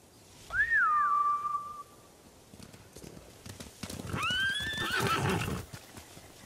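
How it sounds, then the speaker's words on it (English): Samurai horses in the game Ghost of Tsushima give a loud, close whinny, then a second neigh over a clatter of galloping hooves. "Bastards scared off the horses."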